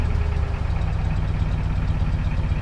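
The flathead V8 of a 1936 Ford Model 68 Fordor sedan runs at a steady, close idle, a low rumbling chug that stays even and loud throughout.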